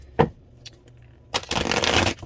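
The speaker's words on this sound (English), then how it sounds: "really trying to get a good shuffle in here" Deck of playing cards being shuffled at a desk: a quick flick, a few light taps, then a sustained close riffling burst, with no talk.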